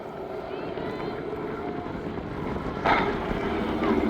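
Boeing PT-17 Stearman biplanes flying a wing-walking display roar at a distance, their engine drone buffeted by wind and swelling louder toward the end, with a voice faintly present underneath.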